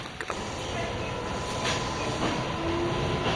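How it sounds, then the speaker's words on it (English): Inside a moving train car in Japan, a steady loud rolling rumble and rattle of wheels on track fills the cabin, with a faint whine and a few clicks, no talk. "I've got this entire train car to myself"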